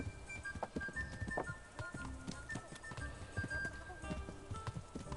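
Hooves of a horse clop in a regular rhythm in the game Kingdom Come: Deliverance, soft and moderately close, continuing throughout over a low ambient game background.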